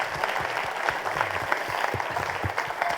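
An audience at a music academy's Heritage Series event applauds with steady, dense clapping from a crowd throughout, with faint voices mixed in.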